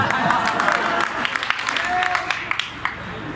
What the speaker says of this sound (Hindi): इनके लिए तालियां बजा दी।